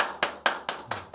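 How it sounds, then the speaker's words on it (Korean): A church congregation claps together during a Sunday worship service, five or six sharp, evenly spaced claps in a steady rhythm with no talking. "우리 예배를 받으신 하나님께 영광의 박수 올리겠습니다."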